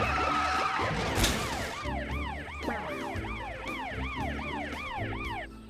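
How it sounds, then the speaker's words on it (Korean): A wailing emergency siren cycles rapidly up and down behind steady road and engine noise, loud and close, continuing for several seconds; cartoon audio. "뒤에 사이렌 소리 들려?"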